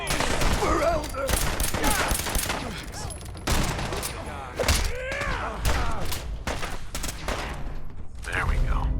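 Dense, near-constant gunfire in the video game Fallout 4, with rapid automatic bursts and heavy thumps layered over each other, as voices call out during a firefight.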